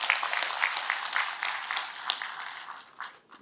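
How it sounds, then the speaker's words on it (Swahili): An audience at an outdoor public security forum in Siaya applauds the minister, a dense, steady patter of many hands clapping that fades out toward the end. "So nataka mpigie waziri makofi kidogo."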